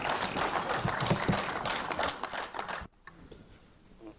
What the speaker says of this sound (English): another round of applause, please, for this passionate presentation